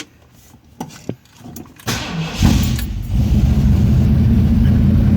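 Keys clink, a starter cranks briefly, then a 1969 Ford Mustang fastback engine catches and settles into a loud, rumbling idle through glass pack exhaust with no mufflers.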